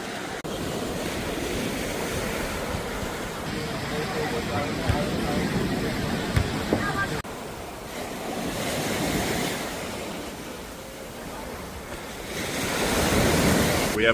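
Surf rolling onto a sandy beach at Cefalù, a continuous broad wash of breaking waves with gusty wind buffeting the microphone, swelling and easing over time, with a voice talking over it.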